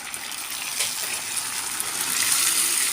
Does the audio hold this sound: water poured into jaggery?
yes